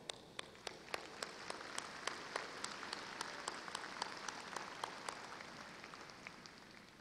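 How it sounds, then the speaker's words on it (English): Steady applause fills a large hall at a Texas A&M-Corpus Christi summer commencement: a continuous, distant-sounding wash of many hands, with individual sharp claps popping out at irregular intervals throughout. "now would be a good time to give them a hand of applause"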